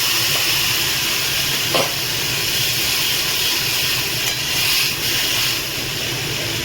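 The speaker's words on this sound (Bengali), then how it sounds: "আর এখানে আমি একটু গরম জল রেখেছিলাম, গরম জলটা দিয়ে দিচ্ছি।" Hot water poured into a pan of simmering amudi fish gravy sends up a loud, continuous steaming hiss, close and rushing, with a few brief crackles along the way.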